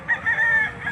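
A Gilmore hatch line gamecock at a livestock auction market crows once, a close, loud, drawn-out call filling the whole second.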